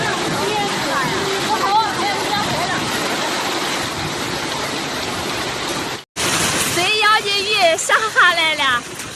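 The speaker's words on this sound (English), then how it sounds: "The air was filled with the roar of rain pounding every surface, occasionally punctuated by rolling thunder." Heavy storm rain and rushing floodwater in a city hit by extreme weather with strong winds and hail, a loud, roaring wash that is nearly constant, with voices talking over it after a brief cut.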